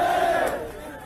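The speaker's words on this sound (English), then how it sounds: "They yell slurs against the US president" A crowd of pro-Palestinian protesters yells in unison, a loud, sustained collective shout that fades over about a second.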